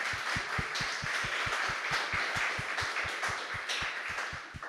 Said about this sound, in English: a round of applause to our winners now